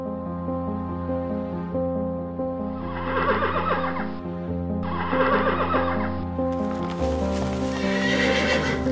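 In a Vietnamese animated fairy tale, a horse whinnies loudly twice in close succession, then a further burst of neighing and hoof clatter follows, all over steady background music with no talk.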